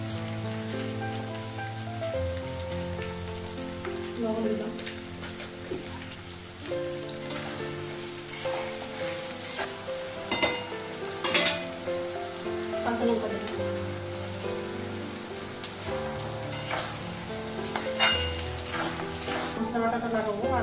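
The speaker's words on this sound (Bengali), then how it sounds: "পেঁয়াজের মধ্যে লবণ দিব, তাড়াতাড়ি পেঁয়াজটা ভাজা হবে" Sliced onions sprinkled with salt frying in hot oil alongside green chilli and bay leaf in a home kitchen, a steady crackling sizzle with stirring clatter throughout, accompanied by background music.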